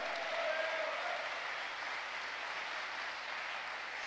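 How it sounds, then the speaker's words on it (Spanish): A church congregation clapping together in a large room, a steady wash of applause that holds evenly from start to finish, with a faint voice briefly audible beneath it. "Dele fuerte ese aplauso."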